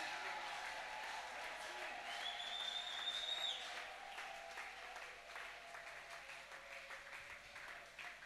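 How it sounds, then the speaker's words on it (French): A congregation applauding and cheering during a French-language sermon, a faint, sustained wash of clapping with crowd noise and a brief whistle-like tone, continuing steadily throughout. "Ils ont mérité l'acclamation. Ils ont mérité le cri de joie."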